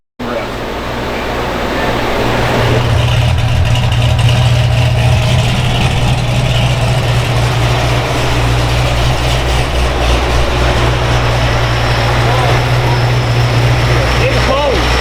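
A procharged C7 Corvette engine roars loud and continuous for the whole stretch, a dense sustained rumble with blower whine layered on top, swelling after a short start and holding steady.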